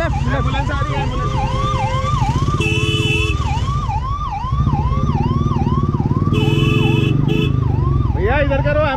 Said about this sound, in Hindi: एम्बुलेंस आ रही है, एम्बुलेंस।